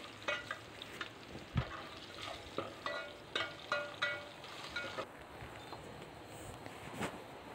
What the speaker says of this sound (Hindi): इसको इसी ऑयल में अच्छी तरीके से फ्राई कर लें